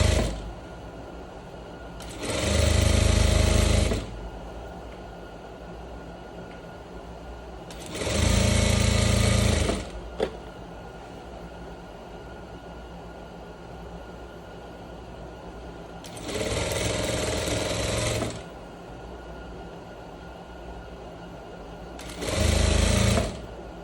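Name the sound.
sewing machine stitching trouser crotch seam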